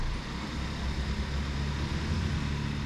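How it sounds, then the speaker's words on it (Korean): Kia K5 creeping forward under remote smart parking assist, a faint steady engine and vehicle hum with no voices, even in level throughout. "버튼을 앞으로 당기면 차가 앞으로 나옵니다"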